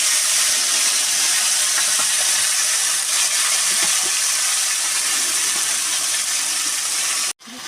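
Ground spice paste dropped into hot oil tempered with cumin and a bay leaf for a fish curry, giving a loud, continuous sizzling hiss that stays close and steady before cutting out abruptly near the end.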